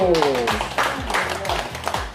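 Several hands clap in rhythmic bursts at a group exercise session, steady beats under a singing voice.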